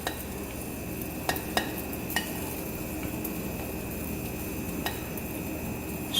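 Meat, green peppers and onions sizzle softly on top of an omelette with ham and sausage in a pan, a steady low frying hiss broken by a few sharp utensil clinks against the pan.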